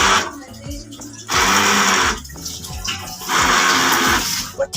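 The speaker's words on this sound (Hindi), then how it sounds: "तो यहाँ पे मैं हैंड ब्लेंडर यूज करूंगी" A hand blender mashes a cooked shami kabab mixture in two loud whirring bursts, with quieter stirring and clatter between them.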